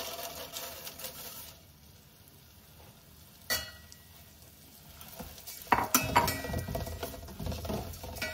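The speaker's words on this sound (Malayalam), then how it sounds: "ഈ ഗീയിലുള്ളിലേക്ക് ഞാൻ ഈ ഓട്സ് ഇട്ടൊന്ന് ഫ്രൈ ചെയ്യുന്നുണ്ട്." Oats frying in ghee in a pan for Onam oats payasam: a soft steady sizzle with stirring scrapes and a few metallic clinks, growing louder and busier toward the end.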